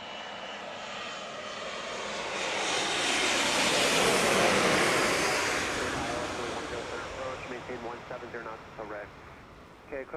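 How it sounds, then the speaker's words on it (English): A KLM airliner landing at Chicago O'Hare in stormy weather: a loud engine roar swells as the jet passes close by, then fades with fluttering rumble while talk and radio chatter continue underneath. "we're going to go ahead and catch KLM land here"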